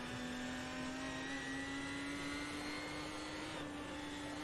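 Race car engine in Automobilista 2 played in virtual reality, a steady droning whine that rises slightly in pitch as it accelerates out of a corner, continuous and fairly loud with no talking.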